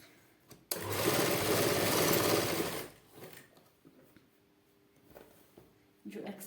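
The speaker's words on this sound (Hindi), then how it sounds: "स्टिच करेंगे इसके साथ बाजू को।" An electric sewing machine stitches a sleeve onto a kameez, giving a loud, steady mechanical whirring burst for about two seconds. Softer handling noises follow, with an occasional low hum.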